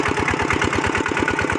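Walk-behind tractor plowing a paddy field, its engine chugging in a fast, steady knocking rhythm, loud and close with no talking.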